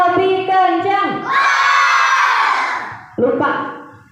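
Schoolchildren at a Maulid Nabi event at SDN 24 Mataram shouting and cheering together at Udin: a loud, sustained crowd yell that swells, fades, then bursts up again briefly.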